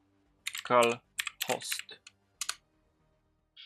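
A computer keyboard clatters in short bursts as a console command is typed into Counter-Strike 2, with separate clicks and a brief voice-like sound between quiet pauses.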